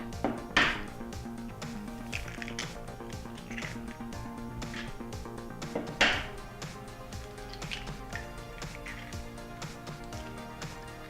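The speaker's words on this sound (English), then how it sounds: "I'm going to crack my 3 eggs in" Three eggs cracked into a mixing bowl for gluten-free brownie batter, a few sharp taps and cracks standing out over a low kitchen background, with no talking.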